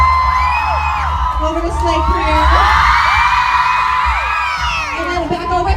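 An audience at a drag show in Freehold, New Jersey cheers loudly, with many whoops and shrill yells rising in a sustained burst, while a host's voice is heard at the start.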